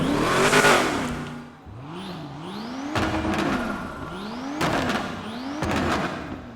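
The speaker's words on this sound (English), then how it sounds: "You guys hear those backfires? Oh my god, they sound so nice." A Brabus 850 in FiveM revs hard and shifts up, a loud engine broken by several sharp popping backfires that land in a rough rhythm during acceleration.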